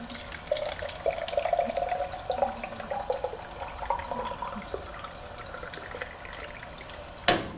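Water from a drinking fountain splashes and trickles into an angled sample bottle being filled for lead testing, a steady close gurgle that fades slightly before a brief louder clatter at the end.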